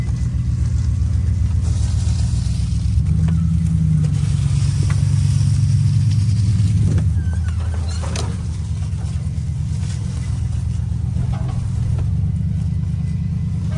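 A 1959 Chevy Biscayne engine rumbles low and heavy as the clutch is released, swelling in loudness mid-stretch before settling to a steady idle-like drone, close and without talk.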